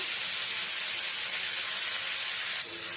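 Chopped greens hit hot mustard oil tempered with black cumin (kalo jeera) and a dried red chilli, producing a loud, steady, close hiss of sizzling that holds without pause.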